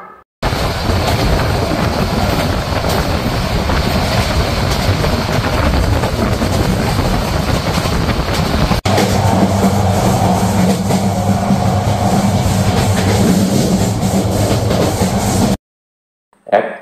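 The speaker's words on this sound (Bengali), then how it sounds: "মেঘনা নদীর উপর অবস্থিত আশুগঞ্জ এবং ভৈরব রেলওয়ে ব্রিজ, যা এখন আমরা অতিক্রম করে চলে যাচ্ছি" A train rumbles steadily across the Bhairab–Ashuganj railway bridge over the Meghna River, a loud continuous roar with rattling wheel noise that shifts to a deeper hum partway through, then cuts off near the end.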